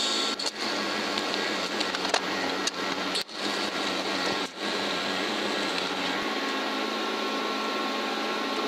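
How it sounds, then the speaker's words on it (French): TIG welding without filler metal, a steady, loud hissing and buzzing arc that holds constant throughout, broken by a few brief crackles and dips. "Donc là, soudure TIG. Je pense sans métal d'apport."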